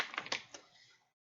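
Tarot cards are shuffled in a short burst of crisp riffling and slapping, a few quick snaps over about a second, close and fairly quiet before fading out.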